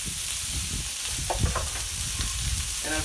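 White onions sizzle steadily on a Camp Chef flat top grill, a continuous close frying hiss with occasional crackles and brief utensil clinks, with no talking.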